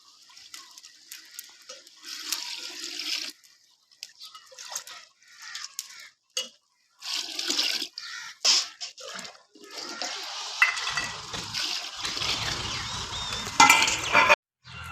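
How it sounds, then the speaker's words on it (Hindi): Water pours and splashes into a pot of rice and green chickpeas for a village-style pulao, in intermittent gushes of varying strength with stirring clatter, growing louder near the end. "ये वाले 5 मग्गे मैं पानी शामिल कर रहा हूँ।"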